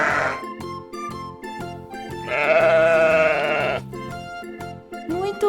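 Sheep bleat several times over a children's farm tune, the loudest wavering bleat in the middle, with shorter calls at the start and end.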